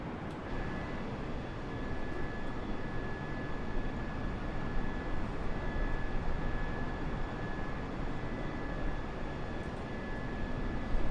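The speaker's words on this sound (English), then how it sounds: "Plane is an Airbus A321, Wizzair colours." Steady broadband roar of Airbus A321 jet engines in Wizz Air livery, simulated in Microsoft Flight Simulator 2020, a continuous even drone with a faint high whine, holding at moderate level throughout with no voices.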